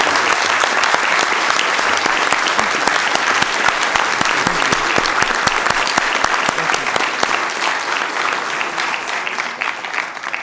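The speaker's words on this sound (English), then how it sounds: "I want to give him a big round of applause." At a city council meeting, a room full of people gives loud, sustained applause that continues dense and even for over ten seconds, with scattered individual claps standing out.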